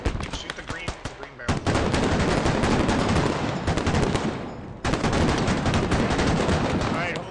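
Sustained automatic gunfire in the military shooter game Squad, loud and near, in dense rapid bursts that run almost without pause, with brief breaks between volleys.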